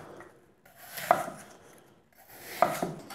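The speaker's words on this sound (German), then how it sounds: "Und den Apfel schneide ich mir jetzt in etwa 5 mm dicke Scheiben." A knife slicing an apple into thin slices on a cutting board, heard as two separate crisp chops about a second and a half apart, close up and quiet, with no talking.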